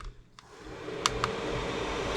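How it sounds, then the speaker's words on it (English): Diesel heater fan in a skoolie bus spins up into a steady, moderately loud whoosh after a couple of soft clicks, holding an even hum to the end. "you can hear the fan is on"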